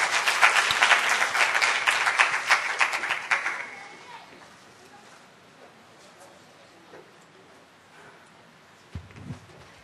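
Audience at a church camp forum hall applauding, dense clapping for about four seconds that fades into quiet room tone with faint shuffles and a brief thump at the end.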